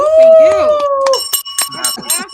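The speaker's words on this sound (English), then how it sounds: "Give that man the bell." A small bell rings out, struck to celebrate a stock trader's long winning streak during a live trading chat, with bright sustained ringing tones over and between excited talk.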